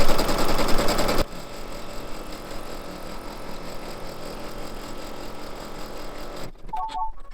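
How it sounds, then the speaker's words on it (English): An embroidery machine stitches a double pass of running stitches to secure a mug rug design to stabilizer in the hoop, a steady rapid mechanical whir that fades lower after a louder start. "There'll be a double pass of running stitches."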